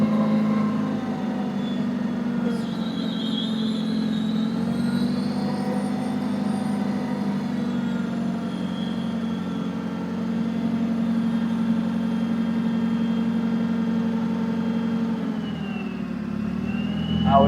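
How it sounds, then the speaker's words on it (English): A Lift Hero 5,000 lb propane (LP) forklift engine runs at a steady, loud rev for the whole stretch while the forks rise with hydraulic whine, easing slightly near the end. "So now I can rev the engine to where if you have a pallet on there, you could lift it with a lot more thrust"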